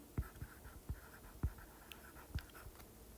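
A teacher writes an example sentence on a board, giving a quiet series of short tapping and scratching strokes at an uneven pace with faint room noise.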